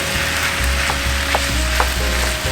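Onions frying in a cast iron pan for shepherd's pie, a steady close broadband sizzle with a faint low hum and a few soft clicks of stirring.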